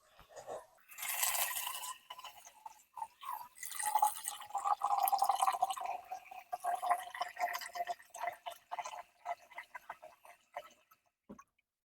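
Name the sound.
kitchen faucet dispensing water into pot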